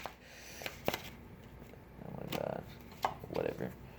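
Tarot cards shuffled by hand in a quiet room, giving soft papery riffles and brief taps in short bursts that grow louder toward the end, with faint background noise.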